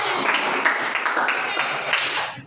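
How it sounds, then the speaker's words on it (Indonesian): A class claps for a classmate, a quick, lively burst of many hands applauding that fills the whole moment, with voices mixed in. "tepuk buat Glenn"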